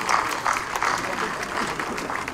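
Applause from an audience at the topping-out ceremony for the BER Berlin capital airport: dense, even clapping of a sizeable crowd that holds steady throughout, with faint voices beneath.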